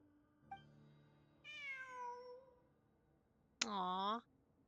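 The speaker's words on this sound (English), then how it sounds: "I'm not hearing things. It really is a cat." Cat meowing in a video game, two distinct tonal meows a couple of seconds apart, the second louder and sharper, over a faint sustained background tone.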